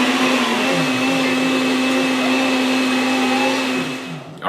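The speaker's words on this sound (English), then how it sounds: "this blending action happens so fast on the Kuvings commercial" A Kuvings CB1000 commercial vacuum blender runs with a steady, loud, high motor whine that holds evenly for several seconds before cutting off sharply at the end.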